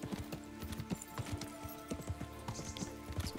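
Horse hooves clip-clop in the medieval role-playing game Kingdom Come Deliverance, a quick, fairly faint run of hoofbeats at a trotting rhythm.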